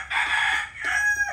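Rooster crowing among chickens in the Philippines, two loud close crows in quick succession, each a drawn-out strained call, with no talk over them.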